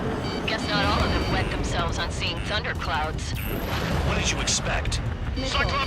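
Dense barrage of missile launches and explosions in the Ace Combat 7 combat flight game, a continuous loud roar of blasts and rushing jet noise with radio voices talking over it.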